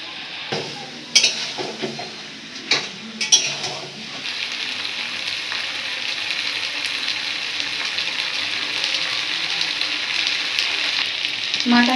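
Mutton curry is being browned and stirred in a pan. A few clattering stirs of the spoon against the pan come first, then a steady, even sizzle of frying fills the rest.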